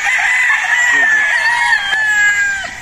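A battle stag rooster on a game fowl farm lets out one long, loud crow that is drawn out and slightly falling, sounding close, with a brief cluck partway through and a voice nearby.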